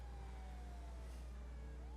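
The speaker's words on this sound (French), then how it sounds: "Ouais, la sirène, là, ta gueule." A police siren in the video game GTA V wails faintly over a low steady engine hum, its tone gliding slowly downward, with no talking.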